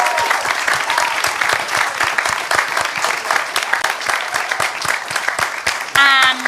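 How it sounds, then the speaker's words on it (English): A large audience claps steadily for panellists at an oceans conservation event, a dense, even roar of applause that holds throughout, with a brief voice near the end. "just like to have a massive round of applause for our panellists"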